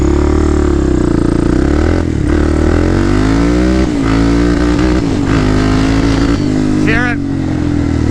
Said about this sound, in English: I'm just going to kind of climb it up to the upper RPMs and we'll see how it holds out